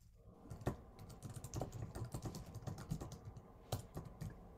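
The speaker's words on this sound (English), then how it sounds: "Somebody is mad typing" Rapid computer-keyboard typing with dense, irregular key clicks and a few sharper louder strokes, fairly close and continuous, with no voices over it.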